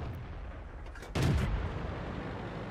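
An M4A2E4 Sherman tank gun fires once in World of Tanks on the Siegfried Line map. The boom is loud and close and sits over a steady rumble of engine and ambience.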